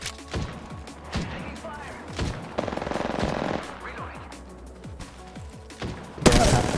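Rapid automatic gunfire in a Skull Town battle royale firefight, loud near bursts of shots in quick rhythm with a sharp heavy crack at the end, mixed with game effects and a voice speaking briefly.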